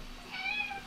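A cat meows once, a short rising-and-falling call heard fairly close against a quiet background with no talking.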